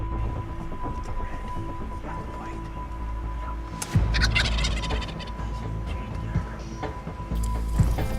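Wild turkey gobbling during a hunt from a pit blind, loud rattling gobbles bursting out repeatedly over steady background noise, with no voices.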